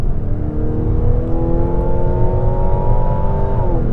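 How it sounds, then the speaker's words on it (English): A 2024 Mazda CX-90 PHEV plug-in hybrid accelerates in sport mode, its engine note climbing steadily as a strong, close drone before easing briefly near the end, heard from inside the cabin without speech. "when you flip the toggle switch and you put it into the sport mode, then the vehicle becomes genuinely quick"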